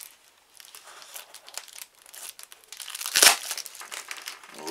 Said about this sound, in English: So we're gonna cut this to length with a pair of scissors.